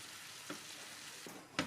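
Rutabagas cook in a pan with water, butter, salt, pepper and sugar, giving a steady soft sizzle and bubbling with a few brief louder pops and clinks.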